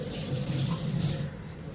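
Water pours steadily into a pot in a home kitchen while tea is being made, a continuous close splashing gush that keeps running for the whole stretch with no talk.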